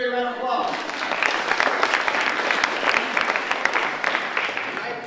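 Loud, sustained audience applause from a crowd at an entrepreneur tour event, dense clapping running steadily throughout after a brief opening voice.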